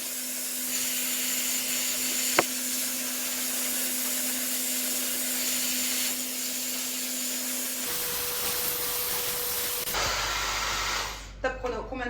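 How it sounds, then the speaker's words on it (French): Powerful hair dryer blowing while drying hair, a loud steady airy whoosh with a constant hum that changes pitch as the settings shift, ending in clattering handling, with a voice talking faintly under it. "Encore plus puissant que certains sèche-cheveux hyper chers dont tout le monde connaît le nom"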